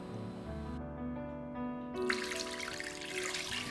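Tap water runs steadily into a sink as chicken wings are rinsed clean, a continuous close splashing stream with no talking.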